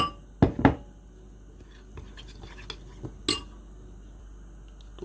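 Spoon knocking against a pot while chicken soup mixture with added water is stirred, with a few sharp metallic clinks early on and then lighter scrapes and taps, quiet and sparse.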